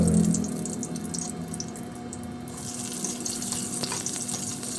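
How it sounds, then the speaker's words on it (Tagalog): Garlic sautés in a pan alongside fish with black beans and bitter melon, a soft continuous sizzle with faint watery crackles and a few light clinks, fairly quiet and close. "igisa ko na po ng bawang"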